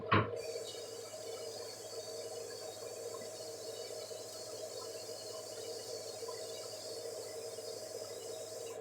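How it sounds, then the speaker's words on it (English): A steady stream of water pours into a cup, a continuous hissing trickle after a short thump at the start, with a faint hum underneath. "I'm going to get my cup and I'm going to go ahead and put some water."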